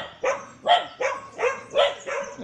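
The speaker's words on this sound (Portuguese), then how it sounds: "Aqui a minha cachorrinha aqui. Tá alegre que eu cheguei a bolinha." A small dog barks and whimpers excitedly in a steady series of about six short, close, bright yelps, one every half second or so, with no talk over them.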